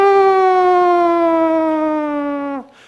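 A voice imitates a siren with one long, loud, steady wailing tone that slowly falls in pitch before cutting off abruptly, heard alone and close.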